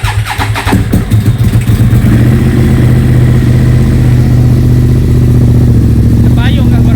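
A brand-new Moto Morini X-Cape 1200 motorcycle with zero kilometres cranks and fires up loudly close by, then settles into a steady, throbbing idle that carries on to the end.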